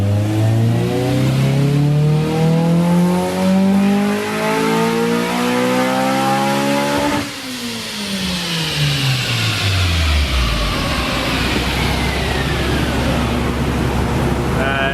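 A 2000 Honda Civic Si EM1 with a swapped B18C Type R engine revs hard and loud, climbing steadily, then drops off sharply and winds back up through high revs, with a constant close engine roar and no talk.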